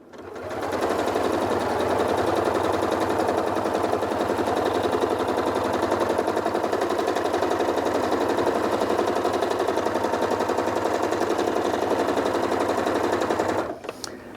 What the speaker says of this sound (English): So you heard that needle going at a nice constant pace